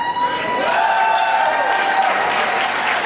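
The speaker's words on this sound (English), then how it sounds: "Join me in a round of applause" A crowd at a high school's 50th anniversary gala applauds steadily, a dense and fairly loud wash of clapping that lasts the whole stretch, with faint cheering underneath.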